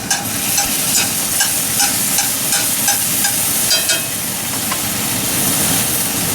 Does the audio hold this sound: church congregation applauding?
no